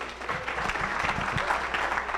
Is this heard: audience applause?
yes